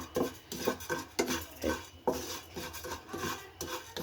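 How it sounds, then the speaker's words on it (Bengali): Moong dal dry roasting in a pan gives a rhythmic, gritty rasp of stirring, with repeated scrapes of a spoon against the pan about every half second, close and fairly quiet, with no talking. "এবার একটু মুগের ডাল একটু সামান্য ড্রাই রোস্ট করব।"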